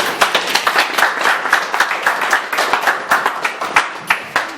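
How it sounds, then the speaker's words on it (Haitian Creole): Audience at a hospital event in Haiti applauding, a steady round of dense clapping with individual claps standing out, fairly close and loud throughout. "Sous applaudissement, s'il vous plaît."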